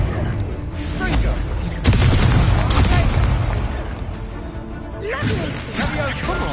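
Confringo fire-blast spell in Hogwarts Legacy: a loud booming burst with a crashing, whooshing tail, followed by further impacts, heavy and close amid busy combat noise and a speaking voice.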